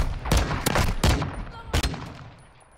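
Four sharp, loud gunshots fire in quick succession in a shooting video game, each with a booming low end and short decay that fades into quiet.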